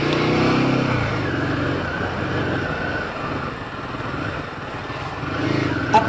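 A Royal Enfield Himalayan 450 motorcycle engine drones steadily at close range while riding off-road, holding a mid-pitched roar with slight rises and dips, and no voices are heard.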